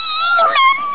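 A puppy from a phantom-coloured litter gives a single close, high whimpering whine lasting about a second, loud and alone.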